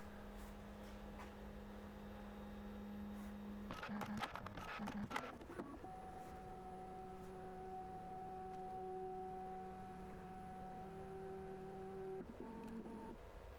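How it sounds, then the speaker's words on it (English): A Bambu Lab H2D 3D printer running just after start-up, its steady motor hum broken around four seconds in by a burst of clicks and whirring movement, then sustained stepper-motor tones shifting pitch as the print head moves; no talking. "The printer has just been started up,"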